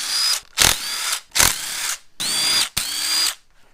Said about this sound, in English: And then we'll take out their 6 bolts that hold the valve cover on.